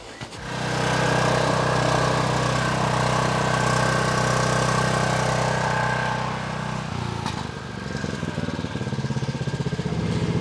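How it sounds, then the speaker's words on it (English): A generator engine sputters to life with a sharp start and settles into a loud, steady mid-pitched run beside a concrete mud mixer, then its tone drops and turns rougher and pulsing near the end. "Let me go start the generator up"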